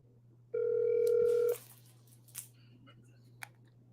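A single steady electronic tone lasting about a second comes from a phone dialing a call, followed by faint clicks and handling noises over a low constant hum.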